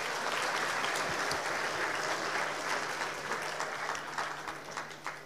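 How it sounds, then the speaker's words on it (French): Steady, full applause from the crowd at a master's degree graduation ceremony, many hands clapping in a continuous dense roar that tapers slightly toward the end, with no speech. "Anaïde Aycock, qu'on applaudit bien fort même si elle n'est pas là."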